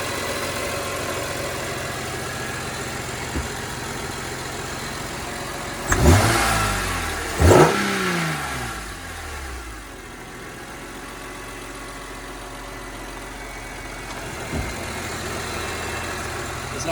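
A BMW E46 M3 engine idles smoothly, then gets two quick sharp revs that swell and drop back, with a steady close idle in between and afterward.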